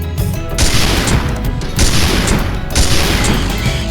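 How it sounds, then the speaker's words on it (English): Rapid, loud gunfire bursts from a sniper weapon in the Dino Stalker video game, firing repeatedly in dense, overlapping blasts over about four seconds. "Snipe shot."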